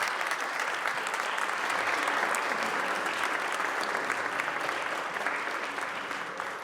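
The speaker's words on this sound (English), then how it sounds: "Give them a round of applause." Sustained applause from a group in a state senate chamber, honoring a championship youth team; steady, dense clapping at moderate distance that holds for several seconds and tapers slightly at the end.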